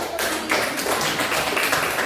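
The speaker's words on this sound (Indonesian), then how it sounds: "Oke, tepuk tangan dulu." A classroom of students claps together in a short burst of applause during a math lesson on algebra, dense and continuous for about two seconds.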